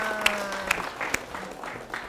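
Audience at a school event applauding a student, a brief burst of scattered clapping with a few sharper claps standing out, while a voice speaks over it.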